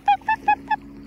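Little ducks calling in a rural valley: four short, nasal, honking calls in quick succession, close by and fairly loud, with faint background noise between them.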